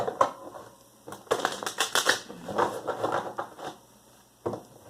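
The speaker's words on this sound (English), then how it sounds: "So let's do 2 more shuffles here." Crisp ruffling and riffling of tarot cards in quick bursts, close by, with a pause and a final short shuffle at the end; no talking.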